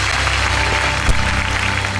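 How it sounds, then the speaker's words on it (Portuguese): A church congregation applauding, a dense, loud, sustained wash of clapping from many hands with no voices standing out. "Aplauda ao Senhor."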